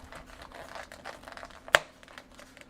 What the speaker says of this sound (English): We'll put our lid on.